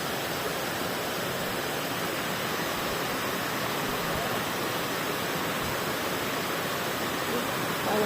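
Water rushes steadily through a flooded rice field where kangkong grows, a constant broadband wash heard up close without a break for about eight seconds.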